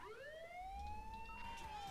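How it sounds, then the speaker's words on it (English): A police siren in Saints Row: The Third wails steadily, rising and holding its pitch, with faint background rumble and no talking. "Didn't you hear the sirens?"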